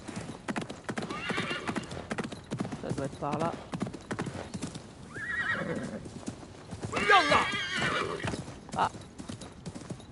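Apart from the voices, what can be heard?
horse galloping in video game Assassin's Creed Mirage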